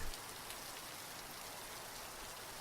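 Steady rain falling, a soft continuous hiss of drops on surfaces, fairly quiet and unbroken throughout with no voices.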